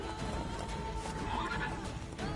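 Roach, the horse from The Witcher 3: Wild Hunt, lets out a steady whinny over a continuous bed of game ambience and hoof clip-clop, lasting the whole short stretch at moderate loudness.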